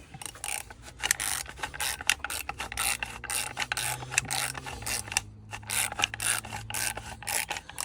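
A cutter wheel tool bites into the metal can of a Ford Motorcraft oil filter, giving a steady mechanical grinding and ratcheting rub with irregular clicks, close and fairly loud, with no talking.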